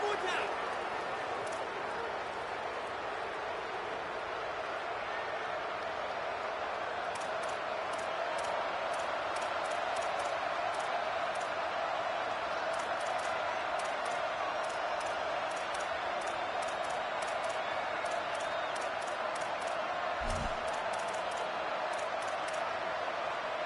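A steady roar of the football stadium crowd at the Texas A&M versus LSU game, loud and continuous throughout, with a commentator talking over it.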